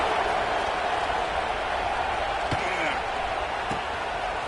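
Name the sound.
football stadium crowd buzzing after a touchdown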